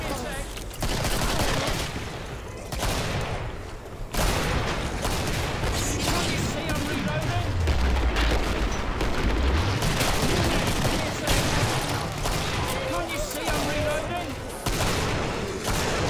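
Gunfire in the co-op game Killing Floor, rapid bursts and heavy shots dense and loud throughout, mixed with game effects and players talking over it.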